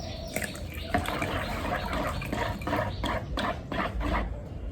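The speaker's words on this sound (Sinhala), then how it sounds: "මේකේ තව වතුර ටිකක් දානවා." Water poured from a cup into a cooking mixture for a caramel pudding, a steady splashing, liquid pour heard close up throughout with small drips and clatter, no talk.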